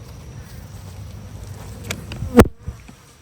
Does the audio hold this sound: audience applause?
no